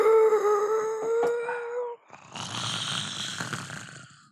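A person snoring loudly in deep sleep, drawn-out nasal rasps with a moaning tone, then a breathier, noisier snore, close and alone, in a gaming episode of Endless Sky.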